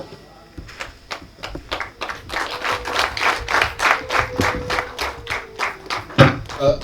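Wedding guests at a Rwandan gusaba and gukwa marriage ceremony clap in a steady rhythmic beat, fairly close, with a voice talking or singing along underneath.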